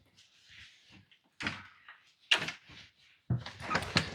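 An old door in a 200-year-old homestead scrapes, creaks and thumps as it is pushed and dragged, with several separate rough bursts of wood-on-wood scraping in a quiet room.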